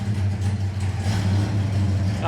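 A 1969 Oldsmobile 442 V8 engine runs with a deep, steady low rumble close by, idling evenly with slight swells, while someone talks briefly over it.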